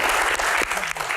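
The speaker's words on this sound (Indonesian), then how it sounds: "Baik, tepuk tangan." A short burst of audience applause in a disaster-preparedness Q&A session, dense clapping at fairly close range for about a second.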